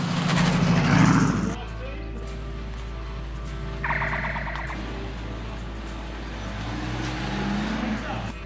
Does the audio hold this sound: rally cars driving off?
yes